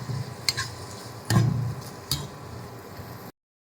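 Egg fry seasoned with turmeric and salt being stirred in a pan, with a few scraping strokes and light clicks of the utensil over a soft, low sizzle, heard close up before it cuts off abruptly.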